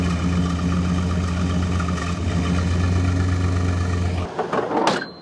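A Chevrolet Suburban SUV engine, unstarted for 7-8 months, idles with a steady, deep rumble, then it cuts off and a few clunks and rattles follow.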